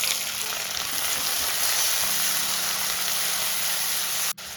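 Chopped tomatoes frying in a mix of refined oil and coconut oil with garlic and shallots, a steady close sizzle and hiss that holds evenly, then briefly drops near the end.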